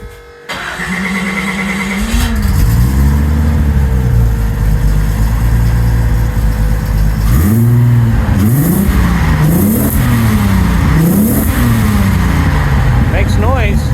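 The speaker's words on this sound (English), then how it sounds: "it was time to do a little bit of a rev check" An 800-horsepower engine in a Chevrolet Trailblazer sleeper fires up for the first time, then settles into a loud idle and is blipped through several sharp revs, with voices talking briefly over it.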